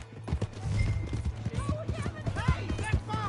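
Horse hooves galloping in the video game Red Dead Redemption 2, a quick rhythmic clip-clop of hoofbeats running throughout, close and fairly loud, with voices talking over them.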